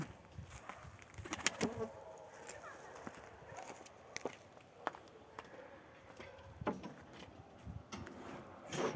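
A pigeon, the keeper's first bird after returning from military service, coos softly amid outdoor rustling and scattered sharp knocks, with faint background noise throughout.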